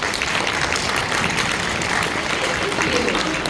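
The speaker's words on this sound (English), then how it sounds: "Big round of applause." An audience at a comic convention panel applauds in a dense, sustained burst of clapping that fills the whole moment evenly, with a few voices mixed in.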